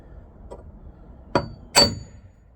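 A steel hammer strikes a punch set on a dirt bike clutch screw and plate during a Hinson clutch kit install on a YZ250: one faint tap, then two sharp metallic clanks up close.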